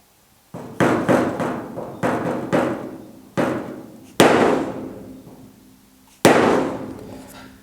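A hammer strikes the fender body panel of a GTO restomod, bumping the metal. Six loud, close blows ring out at uneven intervals, each with a metallic clang that rings on and decays slowly.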